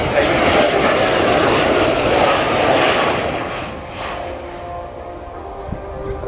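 Sukhoi Su-27P1M Flanker, a modernised jet fighter, roaring past at an air show at RIAT; loud, broad jet engine noise fills the first few seconds, then fades gradually as the aircraft recedes.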